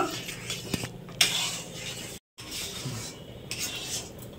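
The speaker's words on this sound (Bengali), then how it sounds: "এবারে ভালো করে আমি মিশিয়ে নেব।" Milk and milk powder being mixed in a pot for milk cake, a spoon scraping and clinking against the metal in uneven strokes, close and moderately loud, with a brief silent gap midway.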